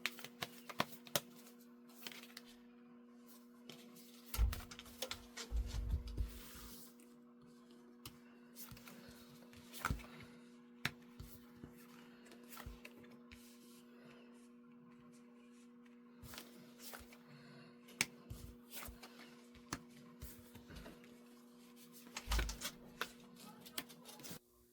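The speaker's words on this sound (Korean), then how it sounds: "연애에 대한 흐름 먼저 카드 뽑아볼게요" Tarot cards being shuffled and drawn at close range, soft irregular riffling, slapping and sliding taps scattered over a low steady electrical hum, quiet overall with a few sharper bursts.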